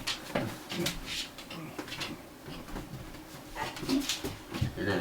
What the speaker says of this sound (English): You're gonna sit with the dog.